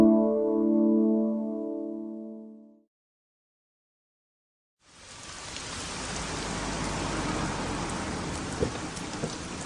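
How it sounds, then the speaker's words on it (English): Steady, dense rain pours down after a brief lull that follows a low tonal hum. The downpour is loud and continuous through the second half, with no voices. "It's been raining for hours."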